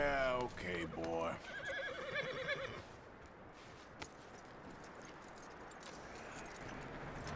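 A horse in the video game Red Dead Redemption 2 gives a loud whinny with a falling then rising pitch, followed by softer snorts and faint hoof sounds.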